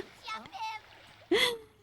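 A swan dive into water in a video game: a brief burst of splash near the end, preceded by light chatter and game sounds, with a voice audible around it.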